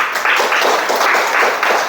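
Students in an Arabic-language classroom clap together in a brisk, continuous burst of applause, close and fairly loud, with no talking over it.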